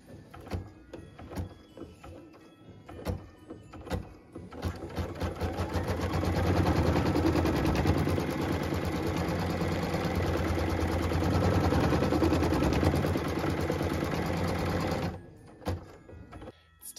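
A sewing machine stitches the tack-down line on a Christmas tree skirt wedge, running in a fast, steady mechanical rattle for about ten seconds, framed by sparse clicks and handling before and after.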